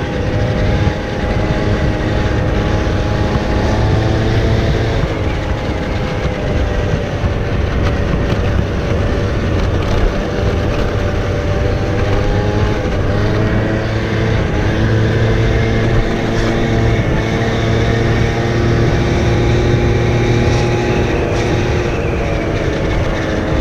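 A scooter rides at about 60 through a village, its engine droning steadily with tonal harmonics and constant wind and road noise, loud and close throughout without a break.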